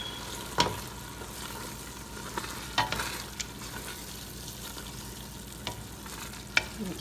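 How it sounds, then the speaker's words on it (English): Onion sautéing in half a cup of oil for Ethiopian doro wot chicken stew, a quiet steady sizzle broken by a few sharp spoon scrapes and clicks against the pot, close, with no talking. "and we'll saute it for about 5 minutes."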